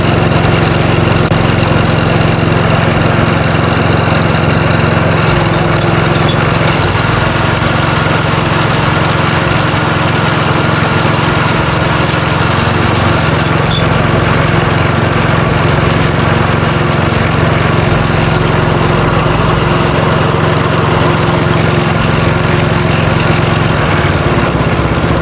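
A Rover Classic cylinder lawn mower engine runs loud and steady from close by after an adjustment, a constant buzzing drone that holds unbroken with no talking.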